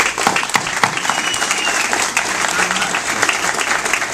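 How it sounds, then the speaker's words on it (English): A crowd at a Virginia veterans' political rally applauds a congressman, with dense, sustained clapping at steady volume for several seconds and some faint voices underneath. "I think we could all applaud the congressman for that"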